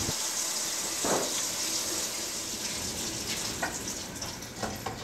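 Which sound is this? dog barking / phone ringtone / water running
water running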